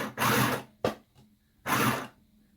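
Mini sewing machine stitching forward through fabric for a Christmas garland: two clear bursts of whirring motor and needle action, with a short mechanical clunk between them, close and moderately loud with no talk.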